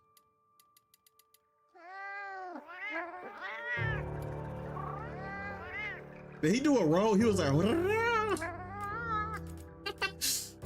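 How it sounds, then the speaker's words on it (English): A cat in Monster Hunter Wilds yowls in long, warbling, insistent meows that grow louder and more strained midway, with someone talking over part of it and faint ticking at the start. "That sounds like a crazy ass cat."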